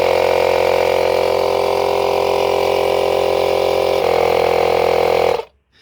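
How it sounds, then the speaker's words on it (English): An air compressor pumping a motorcycle tyre up to 32 psi after a puncture plug repair runs as a loud, steady mechanical drone close by. Its pitch shifts slightly partway through, then it cuts off abruptly, leaving near silence. "I've set my machine here, my compressor, to 32 psi in this case. I'm going to pump it up"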